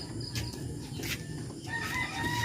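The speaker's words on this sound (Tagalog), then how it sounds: "Kasaw ng manok." A rooster crows nearby over a steady background hum, with faint clucking from other fowl.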